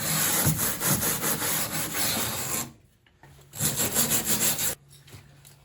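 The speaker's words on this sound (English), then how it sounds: "I'm just wire brushing to find where the spot welds are" A wire brush scrubs the metal body of a 1955 Buick Special, cleaning back to locate spot welds on the rear body crossmember. Loud, continuous rasping strokes run for several seconds, stop briefly, then resume before cutting off, with no talking.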